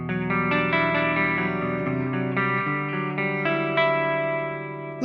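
Electric guitar through a Super Jack clean amp patch with chorus on an N-Audio 8x7 amp switcher, playing sustained, shimmering chords and notes that ring out alone.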